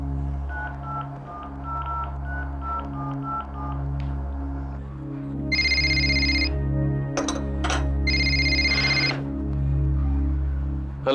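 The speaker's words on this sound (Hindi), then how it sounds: "इतनी देर क्यों लगा दी फोन उठाने में? कब से रिंग जा रही है?" A telephone rings with a steady repeating electronic tone pattern over a low droning bed, sharper bursts of ringing joining partway through, loud and alone without talk.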